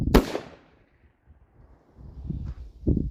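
A single sharp, loud gunshot from a .45 Colt single-action revolver fired over a chronograph, a close blast right at the start that decays quickly, followed by quiet handling noises and faint movement.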